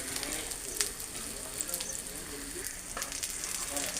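Chattipathiri, a layered pastry, fries in a pan with a soft, continuous sizzle and a few sharp crackles and pops, heard fairly faintly from close by.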